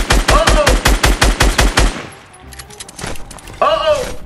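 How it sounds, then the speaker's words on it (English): A Fortnite weapon fires about a dozen rapid, loud shots in an even burst. A few scattered thuds and one more crack follow after a short lull. "Oh, he's sniping. He's sniping."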